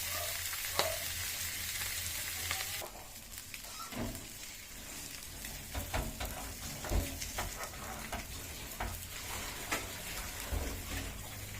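Catfish grilling over heat with a steady, soft sizzle and crackle, plus scattered pops and light scraping. The sound is faint and continuous, with no talk.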